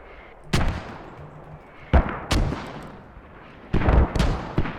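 Mortar fire and explosions in the Squad video game, heard as several sharp, loud booming blasts in irregular succession, each with a rumbling decay and with quieter ambient battlefield noise between them.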